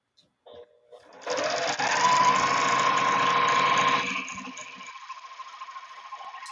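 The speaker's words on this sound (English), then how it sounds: "So I'm just hemming the top parts of these" A sewing machine runs steadily while hemming the top edge of a fabric piece, a loud continuous whir lasting about three seconds that then drops to a quieter, lighter hum, with brief handling noises before it starts.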